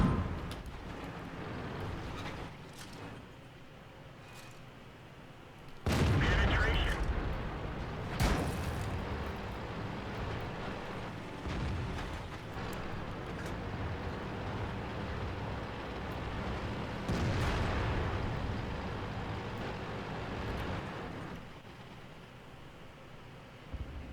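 Heavy booming cannon shots from an enemy tank in World of Tanks, a few loud broadband blasts spread over a steady low engine and battlefield rumble.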